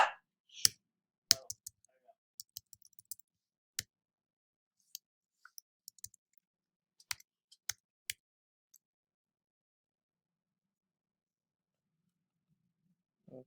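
Keys clicking on a computer keyboard while text is typed out for an acrylic sign design, sparse separate taps spread over several seconds, then a long quiet stretch with no talk.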